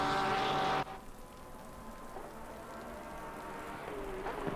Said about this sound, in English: Rain continuing to fall. It is wet conditions now.